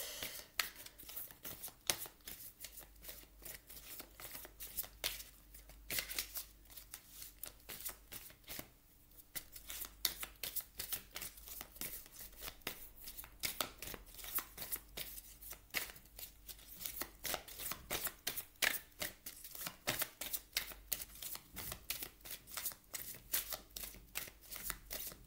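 An oracle deck shuffled continuously by hand, a dense, rapid patter of soft card slaps and rustles, close but quiet, running without pause or speech.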